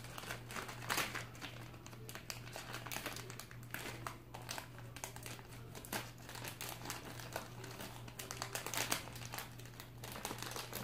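Plastic bag crinkling up close as spare wings from a racing drone crash kit are packed back into it, a quiet stretch of irregular rustles and crackles.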